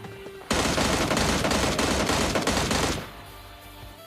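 Sustained burst of rapid automatic gunfire in PUBG Mobile Lite during a solo versus solo fight, loud and dense for about two and a half seconds before cutting off into quieter game ambience.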